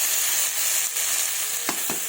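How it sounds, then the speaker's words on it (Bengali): Fish curry with cauliflower, tomato and potato hisses loudly in a hot pan as water goes in, a dense steady sizzle with a couple of brief sharper spits near the end. "এবার এর মধ্যে জল দিয়ে দেবো।"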